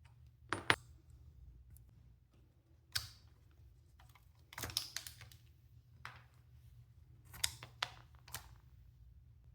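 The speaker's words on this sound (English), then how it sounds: "let's get these shocks ripped off and get the fluid refilled" Shocks are being removed from an Arrma Typhon RC car, with sparse sharp metallic clicks and small tool clatter, close and quiet, separated by near silence.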